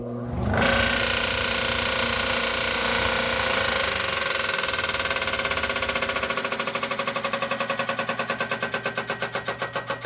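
A homemade dust collector switches on with a sharp start and then runs as a loud, steady motor whine and rushing air. Toward the end the drone takes on a rapid pulsing flutter.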